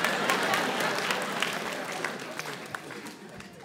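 A comedy-show crowd claps in a dense, steady patter for a few seconds, with scattered sharper claps standing out as it gradually thins toward the end.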